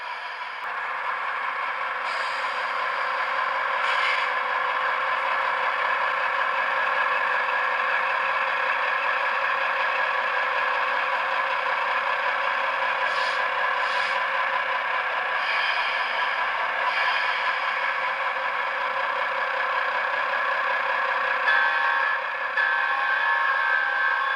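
An Atlas H-16-44 model diesel locomotive with a LokSound decoder gives off a steady, continuous engine drone as it revs, with a few brief clanks on top and no talk.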